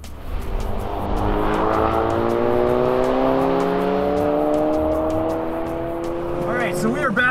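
A worn-out beater car on a race track, now fitted with proper tires and brakes, drones steadily with rising engine harmonics as it accelerates, loud and continuous throughout.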